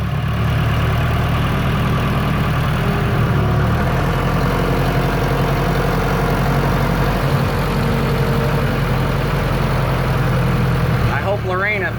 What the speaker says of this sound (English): I hope Lorena thinks my tractor's sexy.